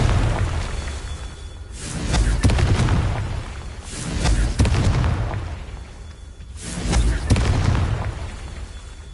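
Booming blasts from the Confringo explosive spell in Hogwarts Legacy, three or four heavy, rumbling explosions that swell and fade over several seconds, each with a sharp onset and a long low tail.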